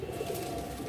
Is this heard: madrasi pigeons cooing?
yes